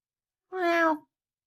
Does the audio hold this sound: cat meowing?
yes